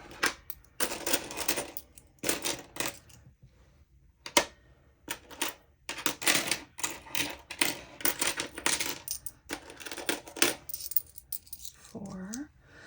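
Dollar coins from a workplace vending machine clink and drop one after another as they are counted by hand, bursts of bright metallic jingling with short gaps, close up; a voice speaks briefly between the clinks.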